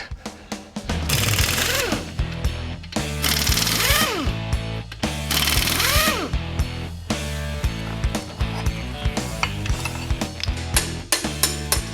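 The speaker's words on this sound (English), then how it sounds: "I think we better start tearing down that block." A Mopar 440 engine block being torn down with tools in a shop: loud, repeated bursts of a rattling impact-driver-style hammering, separated by short pauses and sharp metallic clanks, all close by.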